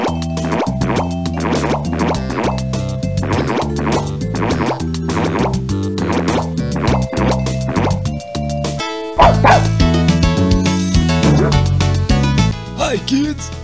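A cartoon dog barks and yips in the Puffy children's computer game, with quick repeated barks falling in a steady rhythm over a bright musical backing that grows fuller toward the end.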